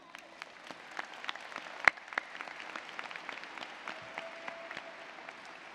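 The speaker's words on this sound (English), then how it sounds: "give yourself a huge round of applause for graduating today" Graduates applauding themselves at a Plano Senior High School commencement, sparse and fairly distant clapping with scattered individual claps standing out against a quiet hall.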